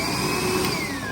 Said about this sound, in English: this thing right here is like a portable vacuum cleaner from Milwaukee